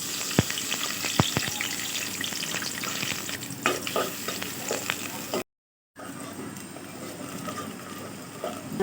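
Oil heats in a pot on the stove with food frying and a steady crackling sizzle. Sharp clicks and scrapes of stirring sound up close, briefly cut by a moment of silence.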